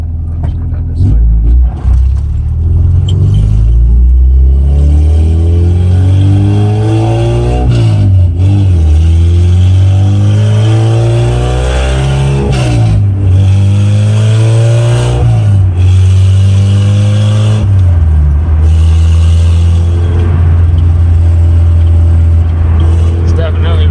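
A 1992 Honda Civic with a swapped engine drives and revs, its loud rumbling note rising and falling through several gear changes, heard from inside the car with people talking over it.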